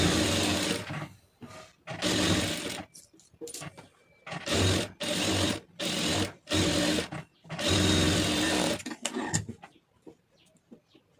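Sewing machine stitching a lined blouse, running in several loud bursts of steady whirring separated by short pauses, close up with no talking.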